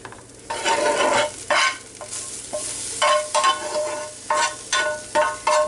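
Chopped onions sizzle loudly in a hot pan while a utensil stirs them in repeated scraping strokes, each pass bringing a fresh surge of frying crackle.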